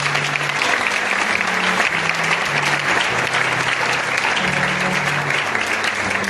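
A church congregation at a child consecration service breaks into loud, sustained applause, dense and continuous from start to end, with a few raised voices mixed in.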